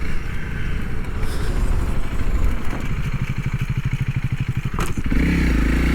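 A 2022 Honda CRF300L dual-sport motorcycle engine revs steadily under throttle, a continuous close, loud drone with a rapid pulsing firing rhythm that rises and briefly surges near the end, with some clatter on the road surface.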